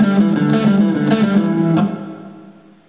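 Distorted electric guitar plays a short blues lick moving from A to open G, then E and open D, four plucked notes ringing together before fading out.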